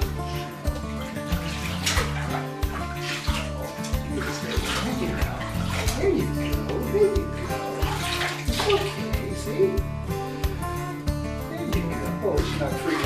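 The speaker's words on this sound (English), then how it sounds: "Splash a little so you show her before you put it on her." Water splashing and sloshing in a bathtub while a dog is bathed, continuous close splashing with running water, people talking over it.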